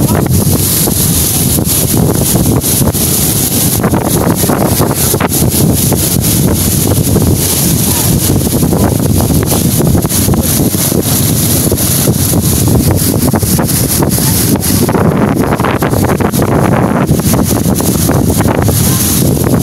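Wind blasts across the microphone on a boat out at sea during a fiesta sea parade, with loud, steady broadband roar and rushing water throughout, the engine and waves largely buried under the gusting wind noise.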